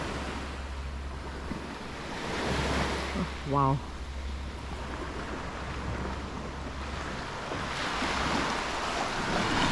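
Steady surf and wind roar from open water off a sailboat near a snorkeling spot with corals, with wind buffeting the microphone throughout and a brief exclamation of surprise in the middle.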